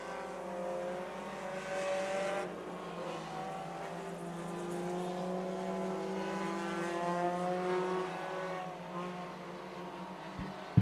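Four-cylinder division race cars at a short track, engines droning and rising and falling as the pack circles, heard from a distance as a steady, continuous roar.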